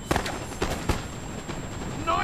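Musket volleys from line infantry shooting at a foot guard unit in a strategy video game, a few sharp cracks spaced across a short stretch, fairly close, with no talking.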